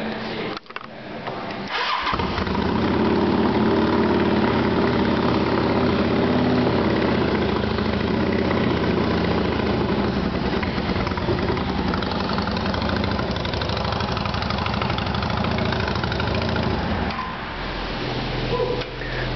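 A Yamaha XVS650 V-Star motorcycle with chrome exhaust idles steadily at close range after a brief stutter at the start, holding a loud, even rumble that eases slightly near the end.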